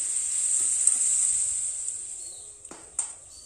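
Goat meat sizzles on a clay stove, a constant high hiss of frying, with a few soft scrapes and clacks of stirring near the end.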